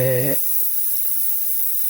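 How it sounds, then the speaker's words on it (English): Airbrush spraying Caribe Blue candy2o paint onto a mini hood: a steady, close hiss of air running on unbroken, with a short burst of voice at the very start. "Now I'm spraying a little bit of Caribe Blue, candy2o"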